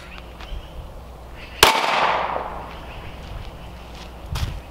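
A single loud, close gunshot from an FN 5.7 pistol fired at tungsten carbide and steel targets, a sharp crack followed by a decaying outdoor echo, then a softer impact or thump a few seconds later.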